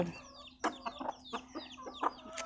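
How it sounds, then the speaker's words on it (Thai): Chickens cluck on a mixed small farm, with repeated sharp clucks and calls close by in quick irregular bursts over a steady background. "อันนี้ไก่นะคะ"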